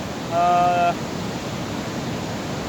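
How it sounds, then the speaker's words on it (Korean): Heavy water pours over the Jamsil weir on the Han River, swollen by monsoon rain, making a steady broadband roar. A brief tonal whine rises above it near the start. "세계 3대 폭포수에 버금가는 우렁찬 물소리가 이곳 잠실 수중부에 울려 퍼지고 있습니다"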